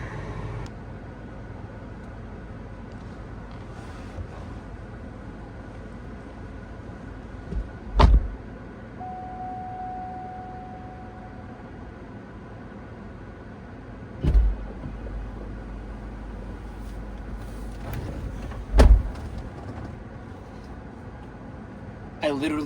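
A 27k-mile 2005 Cadillac STS4 Performance drives along with a steady low cabin rumble, broken by three short loud thumps and a brief whine partway through.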